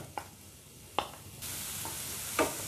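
Chopped onions frying in a pan for a beef cutlet, a low steady sizzle with a few sharp spatula taps and stirring scrapes, louder after the first second, no voices.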